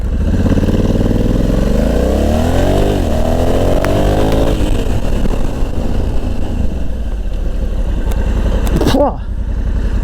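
A Honda Africa Twin with DCT gearbox in sport mode revs hard up close, its engine climbing through rising pitch sweeps and steady loud drone before dropping off near the end.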